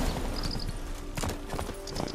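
Roach, the horse from The Witcher 3, gallops in quick, fairly faint hoofbeats over steady game ambience, the rhythm running evenly throughout the short stretch.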